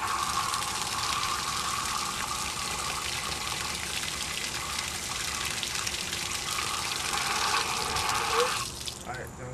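Steady rushing water pours continuously at close range through two open water valves, a broad hiss that drops off abruptly near the end, leaving a few faint clanks.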